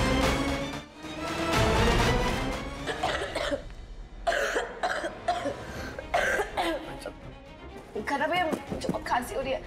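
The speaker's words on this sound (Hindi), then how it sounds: "खांसी हो रही है" Repeated harsh coughing bursts come in quick succession, loud and close, mixed with strained vocal sounds.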